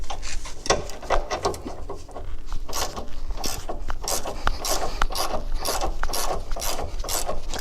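A GearWrench ratcheting wrench works the sway bar links on a Camaro ZL1 1LE, giving a steady stream of close, rapid raspy clicking strokes with no talk.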